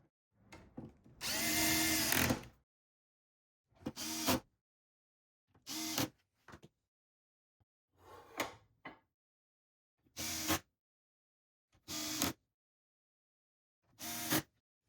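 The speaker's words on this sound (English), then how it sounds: "using the M5 screws, we're going to install these secondary mounting brackets. Just line up the holes with the side here, and in go the screws" A power drill drives M5 screws into secondary mounting brackets while an EcoFlow Power Hub kit goes into a Skyliner van cabinet. It comes as several short whirring bursts, one long run followed by repeated brief pulses, close and clear with silence between them.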